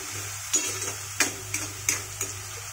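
Finely chopped onion frying in oil over medium heat, a steady soft sizzle broken by several sharp stirring scrapes spaced about every half second to second, close and moderately loud with no voices.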